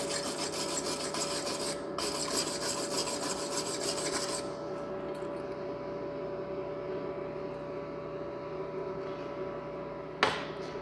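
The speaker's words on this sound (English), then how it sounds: "I need to go get a wire brush." A wire brush scrubs rapidly across a fresh flux-core MIG weld on a Simder MIG-250D, a dense steady rasping that grows softer partway through, with a short clank near the end.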